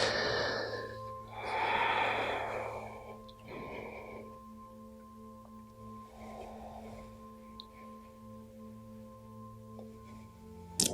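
Slow, deep breaths during a vinyasa yoga flow, a long audible inhale swelling and fading followed by softer exhales, close and quiet over a faint steady background hum.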